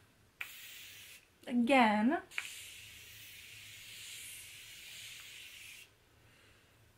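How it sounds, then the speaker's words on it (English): A steady hiss of setting spray misted onto a face lasting several seconds, close by, preceded by a short burst and a brief spoken word. "I'm gonna spray my face"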